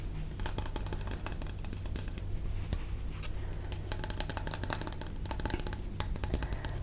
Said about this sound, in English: And so I'm just going to use some scissors.